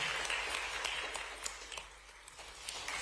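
Quiet, steady clapping from an audience at a sports awards ceremony in Bhopal, a thin continuous patter with a few sharper individual claps, heard from a distance.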